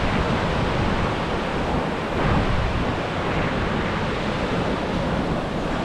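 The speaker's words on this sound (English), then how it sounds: "These waters, surrounded by large mangroves, create a mixed calm and energetic wave activity influenced by tides" Ocean waves at a mangrove-lined estuary on Diani Beach, Kenya, a continuous loud wash of surf with wind noise and no clear breaks between swells.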